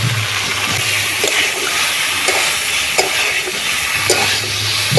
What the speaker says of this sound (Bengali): এবারে দিয়ে দিচ্ছি মুসুর ডাল অল্প করে